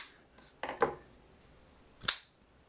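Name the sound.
CRKT Montosa pocketknife failing to open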